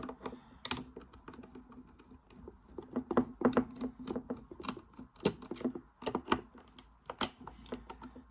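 Small screws on a Bachmann Dusseldorf model tram being worked loose, a quiet run of irregular tiny clicks and ticks like light tapping, close and faint with no talking.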